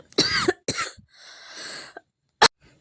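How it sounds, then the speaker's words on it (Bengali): Two harsh coughs close together, then a long raspy breath and a final sharp cough, loud and close with no talking. "আমি কথা বলতে বলতে আমার কাশিটা আবারও শুরু হয়ে গেল"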